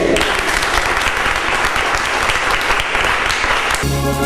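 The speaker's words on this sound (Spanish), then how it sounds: "Den un fuerte aplauso a nuestro Rey." A church congregation gives a loud, dense round of applause, steady clapping filling the room before cutting off abruptly near the end as a voice comes in.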